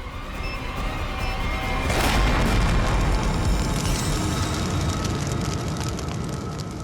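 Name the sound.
bomb exploding in a TV episode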